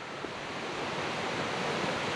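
A river by a roadside in North Carolina rushes steadily, producing a continuous broadband hiss of flowing water, moderately loud and unbroken, with no talk.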